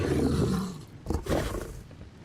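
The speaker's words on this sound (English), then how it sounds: "Come over here, lightning wyvern, so we can look at all your white glory." A lightning wyvern in Ark Ascended: Scorched Earth lets out a deep, rough roar up close, a loud guttural growl that breaks and surges again before fading.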